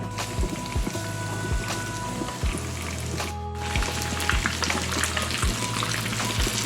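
Breaded chicken breast nuggets fry in oil in a pan, a steady sizzle and crackle, a constant frying hiss with scattered pops, heard up close and without talk.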